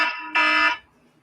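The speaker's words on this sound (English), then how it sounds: "Oh, that's somebody's alarm going off there." An electronic alarm goes off nearby: a loud, harsh buzzing tone that sounds briefly, cuts out for a moment, then blares again before stopping.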